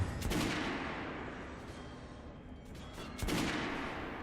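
Heavy machine gun fire in Metro: Last Light, two dense broadband bursts near the start and again near the end, with a rumbling, continuous battle din between them and no talk.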